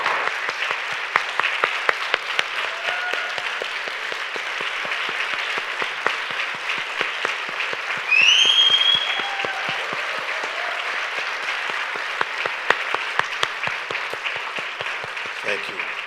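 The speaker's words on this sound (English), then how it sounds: "Can you help me give our panelists a round of applause?" Sustained audience applause for panelists at a town hall, a dense even wash of clapping that lasts throughout, with a brief louder swell near the middle and a few whistles or cheers on top.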